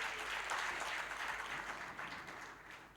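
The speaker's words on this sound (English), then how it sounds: "Another round of applause for our president." A seated crowd at a women's empowerment event gives a warm round of applause for their president, a continuous, moderately loud patter of many hands that gradually thins toward the end.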